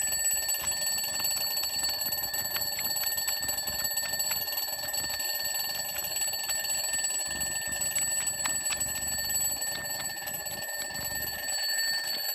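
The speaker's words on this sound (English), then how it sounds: "Your alarm's gone off." An electronic alarm rings continuously in a high, fast, repetitive pattern, steady and fairly loud throughout with no voices.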